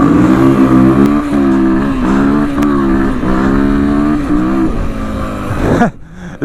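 A vehicle launches hard from a race start with a small wheelie, its engine roaring loud and close in steady revving pulses for several seconds before cutting off abruptly near the end.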